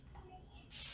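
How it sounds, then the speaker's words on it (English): A spray bottle releases a fine spritz of water onto a craft panel, a short airy hiss that starts abruptly near the end after quiet background rustle. "give my panel a little spritz, a very fine spray of water"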